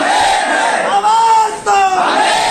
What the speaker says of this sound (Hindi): ये शोर शराबा देखिए और ये नारेबाजी देखिए